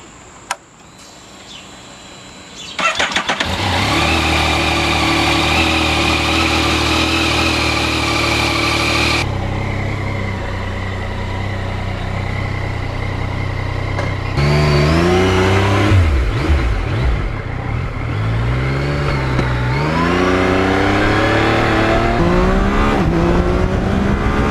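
Yamaha MT-09 motorcycle engine cranking to life after a click, settling into a rumbling idle, then several sharp throttle blips rising and falling in pitch, loud and close.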